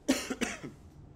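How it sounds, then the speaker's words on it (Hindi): A person coughing, two or three quick harsh bursts in a row followed by a short breathy tail, close and fairly quiet. "बेड़ा गर्क हो जाता है खांसी से यार बंदे का"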